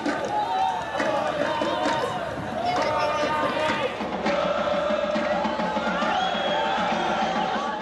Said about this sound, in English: This is a typical football crowd in Doha, almost non-existent.